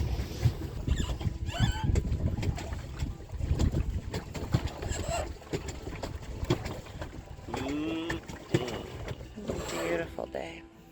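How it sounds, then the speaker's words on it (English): Water sloshes and a small paddle boat creaks along on a pond through breezy outdoor air, with birds chirping and bits of talk mixed in. "Going on a trip in our favorite paddle boat."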